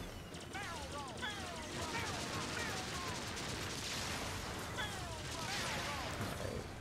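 Rapid gunfire and laser-like blasts fire at the player's ship in the video game Star Fox Zero during a warship level, with dense, continuous shooting and swooping effects mixed under game sound and voices.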